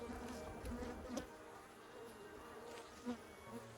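Honey bees drone steadily around an open hive during a late-August beekeeping inspection, a dense close buzz with individual bees zipping past the microphone, no voices.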